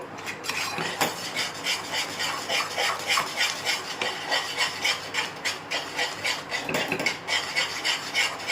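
A ladle scrapes and stirs a ragi flour mixture in a cooking pot, giving a steady rhythmic rasping with occasional clinks of utensil on metal, close and moderately loud with no talking.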